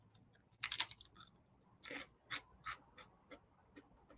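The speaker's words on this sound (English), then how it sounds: "So you can hear that it is crunchy." Crunchy snack chips being bitten and chewed close up, with a burst of crisp crunches followed by a series of separate, evenly spaced bites and chews, no talking.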